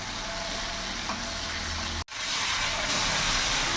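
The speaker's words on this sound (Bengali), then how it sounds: "মশলাটা ভালো করে কষিয়ে নেব যতক্ষণ না মশলা থেকে তেল ছেড়ে দিচ্ছে।" Spice paste for a bata fish curry sizzles and fries steadily in a pan, a dense continuous crackle with brief stirring sounds, cutting out for a split second midway before resuming just as loud.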